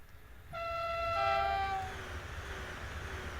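A DMU, the DB BR 612 in Train Simulator 2016 on the Munich to Augsburg line, races past at high speed. A sustained multi-tone horn blares, then the passing rush fades and the horn pitch drops away as the train recedes.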